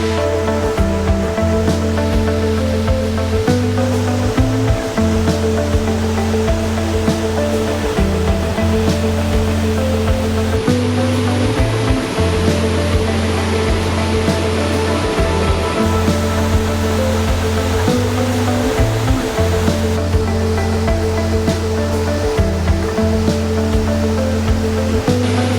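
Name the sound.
waterfall beside a road in Georgia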